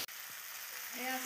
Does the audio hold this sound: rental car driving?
no